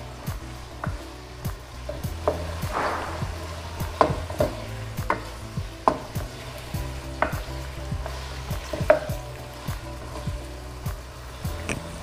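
Ginger garlic paste sizzles and fries in a pan of meat for apple gourd curry while a spoon stirs it, with steady frying noise and regular scraping knocks against the pan, close and clear.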